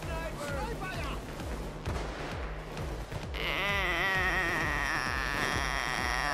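Gunfire from a sniper and other weapons during a police assault in the Payday 2 heist video game, repeated shots and booms over a dense game mix with music, loud and continuous.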